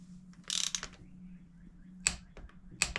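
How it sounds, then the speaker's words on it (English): A torque wrench clicks and ratchets in a few short, crisp bursts while tightening the spark plug on a 2022 Harley-Davidson Street Bob 114, close by in an otherwise quiet space. "I'm just gonna take the torque wrench and we're gonna torque it."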